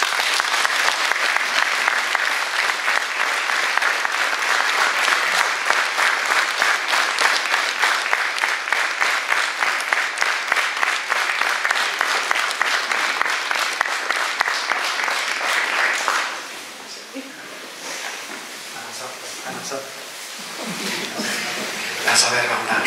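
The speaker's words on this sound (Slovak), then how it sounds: "patrí vám veľký potlesk" A church audience at a nativity program in Solčany gives a long, loud round of applause with scattered chuckles, then the clapping cuts off and a quieter room remains with faint murmurs.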